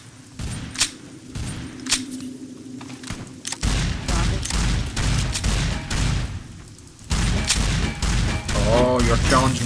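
A modded Mass Effect 2 shotgun firing in Fallout New Vegas, loud repeated blasts in quick succession with heavy impacts and game noise, a voice talking between shots.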